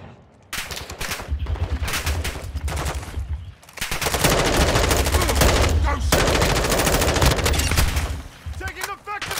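Sustained automatic gunfire in Call of Duty: Modern Warfare II pours out in dense, loud bursts with a short break in between, while voices shout briefly over the shooting.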